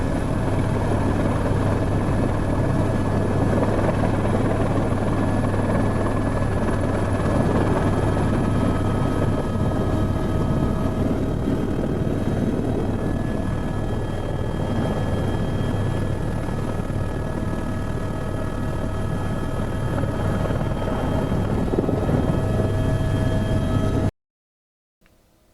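A helicopter flies over São Paulo, Brazil, its loud, steady rotor drone and engine whine heard from inside the cabin and filling almost the whole clip before cutting off near the end.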